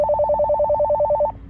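A toy rechargeable walkie-talkie, one of a family four-pack, plays its call tone: a rapid, steady two-note electronic warble repeating for over a second, loud and close, then cutting off.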